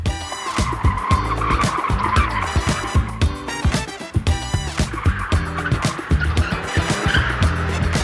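Tires squeal and skid loudly over a revving car engine as the car drifts on a driving school's training lot, the screech rising and falling continuously as the car slides.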